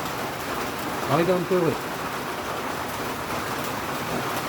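Steady heavy rain hisses continuously in the background while a person speaks briefly over it.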